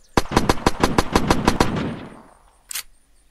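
A rapid burst of about ten gunshots in the video game Unturned, fired in quick succession, loud and close, followed by a fading tail and a short sharp click near the end.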